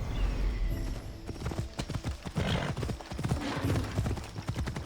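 Rapid hoofbeats clatter and thud in an irregular drumming rhythm, several horses galloping close by in Assassin's Creed Odyssey, with a whinny near the start.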